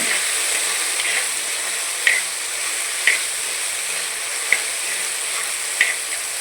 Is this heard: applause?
no